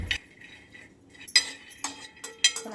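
Peanuts dry-roasting on medium heat in a pan give off sparse, sharp clinks and rattling scrapes as a spoon stirs them, in short irregular bursts separated by near-quiet gaps.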